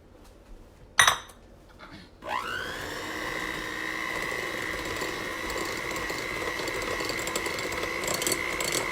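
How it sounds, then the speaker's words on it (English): Two eggs being beaten in a bowl for banana bread, starting with a sharp clink and a scrape, then a steady, close whirring beat that runs unbroken to the end. "here's 2 eggs. And I'm gonna stir those up, beat this up a bit"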